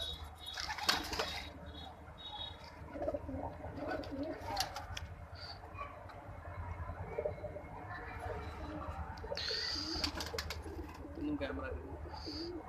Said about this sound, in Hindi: वो है हमारे ऊपर के कबूतर